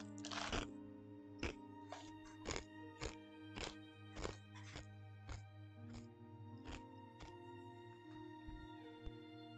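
Close, crisp crunching from someone eating, a string of sharp snaps at an uneven rhythm, quiet and intimate over a low steady hum, with no talk.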